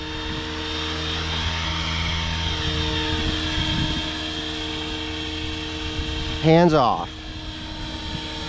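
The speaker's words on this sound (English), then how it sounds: "That's the helicopter on its own." A small RC helicopter's rotor whines steadily as it hovers nearby, a high tonal buzz, with a brief spoken remark and a chirping pitch sweep near the end.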